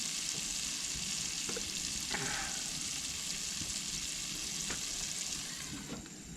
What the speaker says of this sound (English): the pork chops were cooking, and I cut up about a medium-sized sweet onion. We're going to throw that in there.